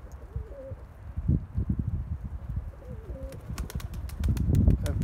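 Young pigeons, tumbler squabs, cooing in a loft with soft throaty calls that repeat close by, while rustling, shuffling and sharp clicks of movement build toward the end.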